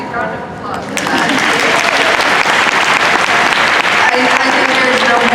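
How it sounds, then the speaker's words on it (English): Loud, dense applause breaks out from a conference audience after a brief spoken exchange, then holds strong and steady to the end, with voices faintly mixed underneath. "round of applause for that"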